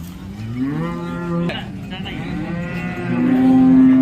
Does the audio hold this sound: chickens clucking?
no